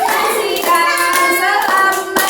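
Children clap in a rhythmic counting game at school while a sung melody carries over the top, the claps landing as evenly spaced, sharp beats.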